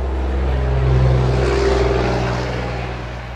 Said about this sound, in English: Lots of trucks going by.